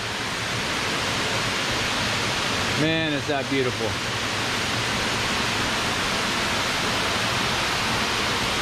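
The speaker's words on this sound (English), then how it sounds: "That's a 40 foot waterfall" A 40-foot waterfall, Quaker Falls, pours in a steady, full broadband roar that fills the whole span, with someone briefly speaking over it near the middle.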